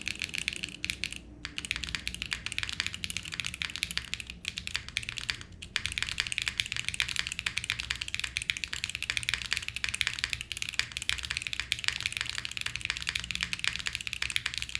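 Continuous typing on a Luminkey 65 mechanical keyboard, a steady stream of crisp, close keystrokes clacking at a quick rhythm with no talking.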